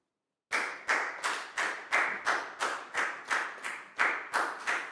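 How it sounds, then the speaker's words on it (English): A Year 4 class claps for a pupil during a maths lesson, about a dozen sharp, evenly spaced claps in a steady rhythm. The claps are close and clear, with no talking over them. "Big round of applause for Pangpon, please, guys."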